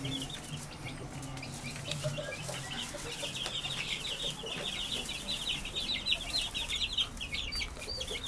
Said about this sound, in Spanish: Aquí les presento mi criadora para pollos finos.